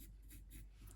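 Pencil sketching on a wood carving blank for a spectacled eider drake, very faint rhythmic scratchy strokes, several quick passes in about a second, close and quiet with no talking.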